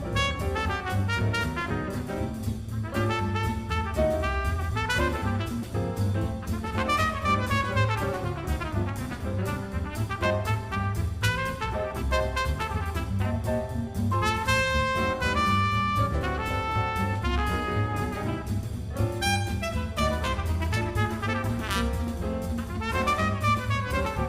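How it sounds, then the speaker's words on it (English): A trumpet solo improvises over a jazzy big band rendition of Jingle Bells, with bright, busy brass lines above steady swinging rhythm and full ensemble backing throughout. "What instrument did you hear? It's the trumpet."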